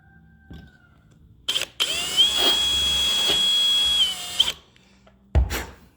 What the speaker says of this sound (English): drill it out. That's it. All you've done is made that hole bigger